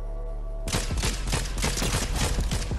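Rapid gunfire in the Fortnite video game bursts in after a brief hum and runs as a dense, continuous volley of shots until the end.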